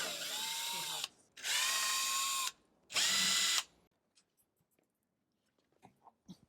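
Bursts from a power drill working on a go-kart floor tray: three loud whirring runs of about a second each with brief pauses, followed by faint clicks and small handling noises.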